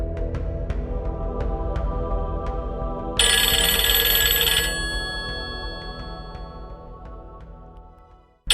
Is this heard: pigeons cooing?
no